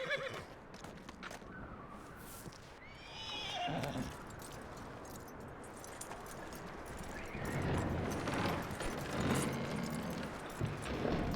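A horse in the Red Dead Redemption 2 video game gives a clear whinny and clip-clops its hooves over a low, steady outdoor game ambience.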